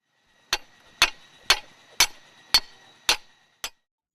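A hammer strikes a metal stake being driven into the floor of an exit pit to anchor a launch cradle for a pneumatic piercing tool, seven evenly spaced sharp ringing blows, close and clear.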